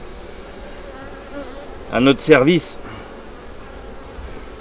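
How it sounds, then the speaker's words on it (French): Honey bees drone with a continuous buzzing through a honey harvest in the Landes region of France, steady and fairly close, while someone speaks French briefly over it. "Quelle chance on a d'avoir ces abeilles"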